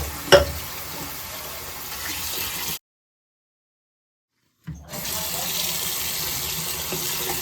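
Tap water runs steadily into a sink while soapy glass is rinsed of etching acid, a broad close splashing hiss that cuts out to silence for about two seconds and then resumes.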